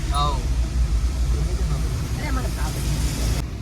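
A CNG car engine labouring on a hilly forest road near Saputara, a steady, loud low rumble that lasts throughout while someone talks over it.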